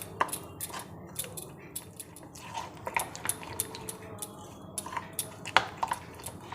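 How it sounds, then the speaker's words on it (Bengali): Gobi Manchurian batter is mixed with water in a bowl, giving a run of wet squishing and stirring sounds with sharp clicks of a utensil against the bowl, close and fairly quiet. "অল্প অল্প জল দিয়ে ব্যাটারটা গুলে নেব"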